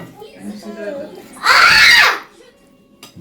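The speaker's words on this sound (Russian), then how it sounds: "Нельзя кричать." A young child lets out a loud, piercing scream-cry lasting about half a second, close to the microphone, between stretches of adult talk in a home kitchen.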